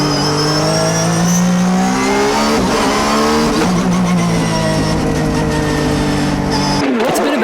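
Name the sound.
GT race car driven on a circuit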